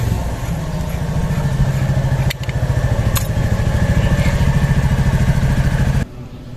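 A motorcycle engine, kick-started because its electric starter no longer works, runs loud and close with a rapid, throbbing idle clatter. It stops abruptly near the end.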